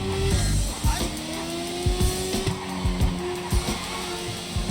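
A car races in the video game GTA 5, its engine droning steadily while tires squeal and skid in repeated short bursts over game music, with no talk.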